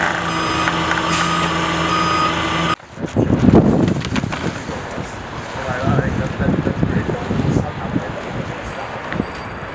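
A truck backs up with steady, evenly repeating reversing beeps, loud at first, then cut off and replaced by wind noise, engine rumble and people talking at a Lamborghini Countach LPI 800-4 delivery.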